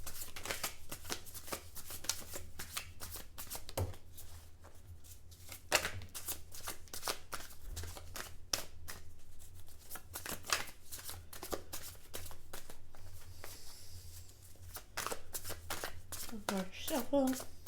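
Cards are shuffled repeatedly at close range, crisp riffling bursts and soft shuffles in an irregular rhythm, quiet and near.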